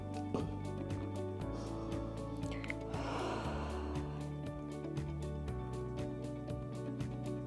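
A single deep breath, drawn and released mid-clip while holding a child's pose after a resistance band glutes workout, sounds soft and airy beneath steady background music.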